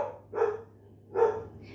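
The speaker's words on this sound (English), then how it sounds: "You hear my dog?" A dog barks twice, each a single mid-pitched bark about a second apart, heard indoors at moderate distance over a low steady hum, with no talking.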